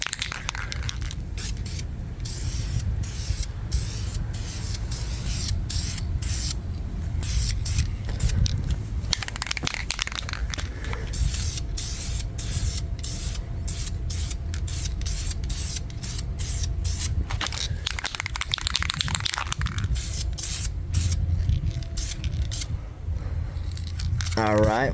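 A steady hissing spray of paint onto a car wheel runs throughout in bursts, with brief pauses and a voice talking over it.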